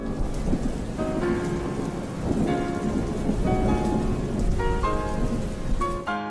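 Steady rain pours on a surface with low rolling thunder at the opening of a doom metal album track, sparse tonal notes ringing over the continuous downpour.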